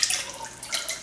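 Soup poured into a pot during home cooking, a brief trickling, dripping liquid sound with small splashy bursts, fairly quiet and close, no talking.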